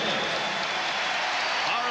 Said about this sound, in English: Horace Grant hearing it from the crowd